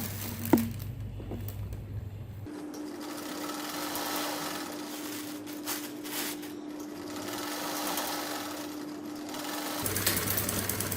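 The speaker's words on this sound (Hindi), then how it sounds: "अब इसी तरह मैं दूसरे हिस्से को सिलाई लगाऊंगी" A sewing machine stitches along the edges of churidar pajama fabric with a steady, close mechanical whirr. It pauses briefly near the start and shifts pace toward the end.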